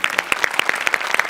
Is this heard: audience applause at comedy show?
yes